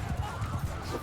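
Horse hooves clop in a quick rhythmic gallop during a battle in the Mount & Blade II: Bannerlord video game, heard faintly under battlefield noise for about a second.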